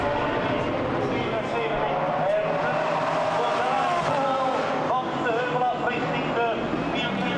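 A GT race car in a Blancpain Sprint Series race at Zolder roars loudly over a crest, its engine note rising and falling through left and right bends, with a commentator speaking over it throughout.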